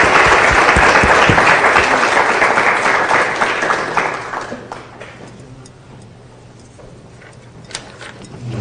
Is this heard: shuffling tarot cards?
no